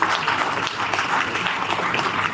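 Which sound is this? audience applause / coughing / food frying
audience applause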